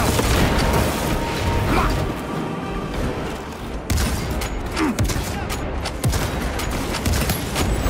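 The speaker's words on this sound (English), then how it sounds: "Frag grenade out!" A frag grenade blast in the video game Warhammer 40K Space Marine 2, heavy booms and crackling bursts amid ongoing combat noise, loud and close, with brief shouted voices mixed in.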